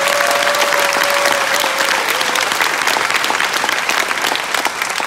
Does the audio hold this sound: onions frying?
no